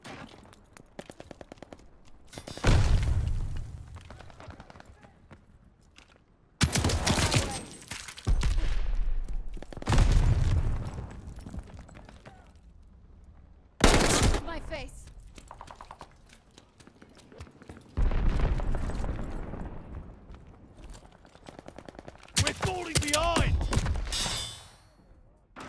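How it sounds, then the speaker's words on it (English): A grenade blast and bursts of gunfire in Call of Duty: Vanguard, with several loud, heavy broadband bangs spread across the stretch, separated by quieter gaps of rumble and rattle. "Grenade!"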